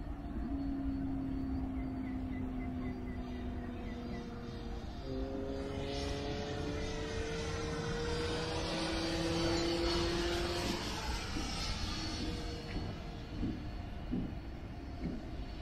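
A Freewing F-18 model jet with an FMS 90mm electric ducted fan on 6S power flies past, its whining tones gliding up and down and swelling as it passes close, then fading, with no talking.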